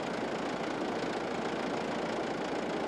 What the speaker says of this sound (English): Start the machine and run the engine at fast idle speed for a couple of minutes before driving off.